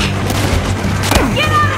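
A single dull grenade blast booms in Battlefield Hardline amid a tense firefight, landing under shouting voices and continuous combat noise.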